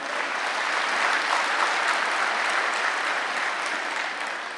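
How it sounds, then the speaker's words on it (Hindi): An audience claps steadily and loudly throughout, a dense, even applause from a crowd at a spiritual talk, with no speech over it. "ताली बजाओ।"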